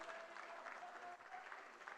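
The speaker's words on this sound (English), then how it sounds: "Another round of applause to the Vice President." Audience applause at a conference in Banjul, The Gambia, a steady dense clapping from a crowd that fills the whole stretch without a break.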